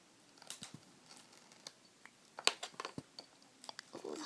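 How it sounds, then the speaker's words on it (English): Scissors snip through a piece of duct tape in a series of small, quiet, scattered cuts and clicks, fairly close, with no talking. "Now I'm cutting a piece of tape that is"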